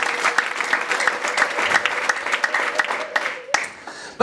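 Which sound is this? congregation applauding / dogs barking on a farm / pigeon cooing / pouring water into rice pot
congregation applauding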